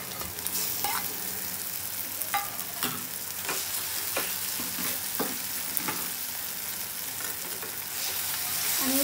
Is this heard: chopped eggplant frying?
yes